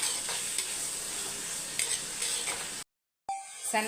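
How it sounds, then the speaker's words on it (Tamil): Onions sauté in a pan, a steady close sizzle with occasional scraping stirs, cut off abruptly by a brief silence before the frying resumes with a faint tonal ring. "இப்போ வெங்காயம் வந்து எயிட்டி பர்சன்ட் நல்லா வதங்கணும் வதங்கட்டும்"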